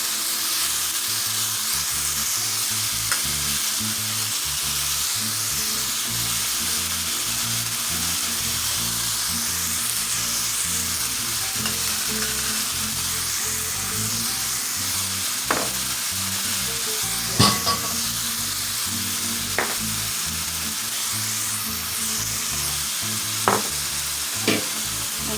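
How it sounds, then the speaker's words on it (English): Seasoned ground beef sizzles steadily in a pan for carne con papas, with occasional scrapes and clicks of a utensil stirring through the meat. The frying hiss is close and even, with no talk over it. "we're just going to mix everything until it's well combined"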